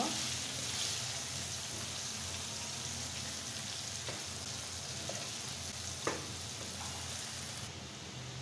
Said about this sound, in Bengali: আর এটা আমি এখন একদম লাল লাল করে ফ্রাই করে নেব।